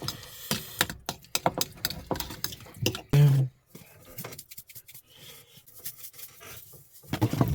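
Spoon stirring shredded chicken with mayonnaise from an MRE pouch at a desert van campsite, a series of close scraping, rubbing strokes with short pauses, one brief louder clunk midway.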